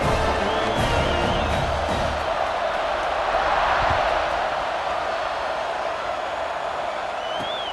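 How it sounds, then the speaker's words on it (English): A stadium crowd cheers in the college football video game EA Sports College Football 26, a steady, broad roar of fans droning on without break at moderate loudness, with occasional faint whistles over it. "this crowd is feeling themselves after that last drive."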